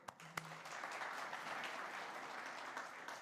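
Conference audience in a plenary hall applauding, a steady wash of many hands clapping at moderate distance, fairly soft, following a sharp knock at the start.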